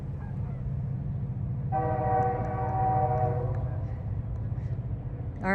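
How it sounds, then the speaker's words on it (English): A train rumbles past nearby with a steady low roar, then sounds a long, loud horn blast lasting about two seconds before fading back to the rolling clatter of the cars. "And there's a train."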